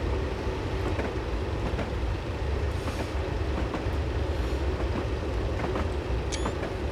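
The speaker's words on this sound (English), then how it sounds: "Train on a bridge." A Class 111 diesel multiple unit in Train Simulator crosses a bridge on Scotland's western lines, a continuous rumbling roll with periodic wheel clicks and a brief high squeal near the end.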